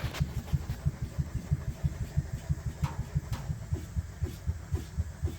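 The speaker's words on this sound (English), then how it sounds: "the engine's running nice and slow, and we're charging it about 7 amps" A small engine runs slowly while charging batteries, its low, steady rhythmic thumping repeating evenly, close and moderately quiet.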